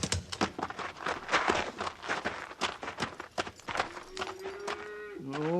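In a Western radio drama, a cattle herd bawls and moos among clattering hoofbeats and scuffling, with a drawn-out low moo rising near the end.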